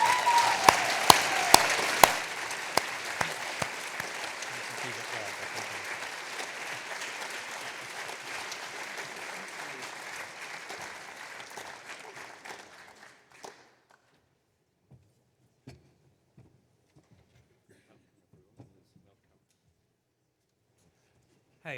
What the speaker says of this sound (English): your claps came very quickly